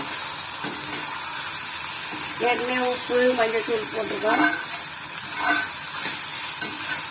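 Mutton liver frying in a pan with pepper, stirred with a spoon, giving a steady sizzling hiss and scraping under someone talking throughout.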